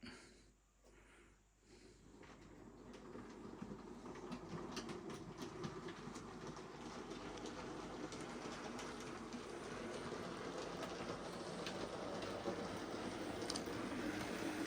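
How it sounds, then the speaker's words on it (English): A steam train pulls away from a station: a low rumble and rhythmic chuffing build gradually from near quiet into a steady, rising roar over about fifteen seconds, heard fairly far off with no talk. "Right, let's get this train away, shall we?"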